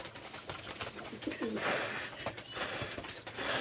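King pigeons in a loft coo under a steady wash of background noise, with soft repeated calls at moderate distance and no speech.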